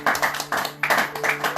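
A church congregation clapping to acclaim God, a group of hands beating in a quick steady rhythm of a few bursts, close and lively with no talk.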